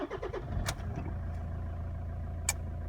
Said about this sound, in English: Now have to go start the car.